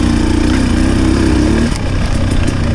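A Husqvarna TX300 dirt bike with a Keihin PWK carburetor chugs along in third gear through an aspen grove, its two-stroke engine a steady, loud, close drone that slightly dips partway through.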